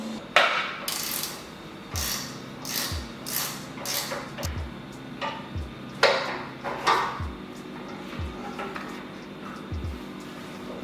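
Ratchet wrench clicking as a lock nut bolt on a reel mower's reel is loosened, repeated bursts of ratcheting roughly every second with small metallic knocks, close and clear, no talking.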